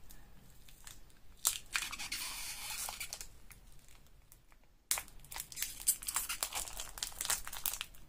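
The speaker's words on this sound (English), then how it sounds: "Move the foil out of the way, then it make a crinkling noise." Aluminium foil being moved crinkles and crackles in bursts, close and fairly loud, with a brief pause midway before more rustling.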